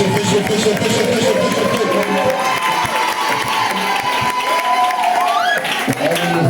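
A church congregation cheers and applauds during a lively service, loud continuous clapping and shouting filling the space close by, with voices talking over the noise.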